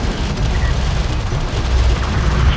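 Battle gunfire from Homeworld: Deserts of Kharak, a dense, continuous rumble of distant shots and booms rolling through the whole stretch with no voices over it.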